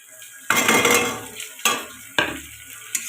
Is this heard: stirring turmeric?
yes